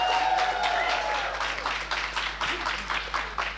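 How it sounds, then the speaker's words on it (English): Audience applause at a U.S.–Southern Africa summit session: dense, sustained clapping from a large crowd filling the whole stretch, with a faint voice at the start before the clapping settles into a steady patter. "Another round of applause, ladies and gentlemen, for Lady Chawe"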